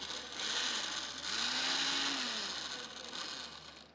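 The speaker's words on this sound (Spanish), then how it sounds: "A mí esta licuadora me encanta porque tiene opción como batido, licuar" A multi-speed kitchen blender purees avocado, giving a steady, loud mechanical whir with a slight dip and swell in motor pitch, close up, with no voices.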